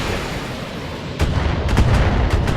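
A PPC energy weapon fires in the BattleTech mech combat game, a booming crack over a rumbling battlefield bed, followed by a few sharp impact bursts.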